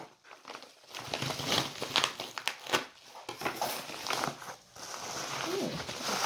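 A big puffy padded mailing envelope is handled and torn open up close, with crinkling and rustling plastic, quick tearing bursts and soft scrapes, moderately loud, with no one talking.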